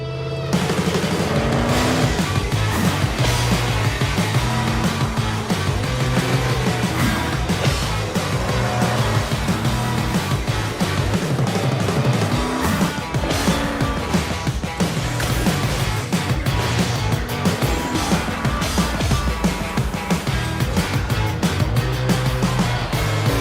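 Racing cars in the off-road racing game Off-Road Unchained roar continuously, engines revving up and down with repeated tire squeals and skids, loud and dense throughout with no talking.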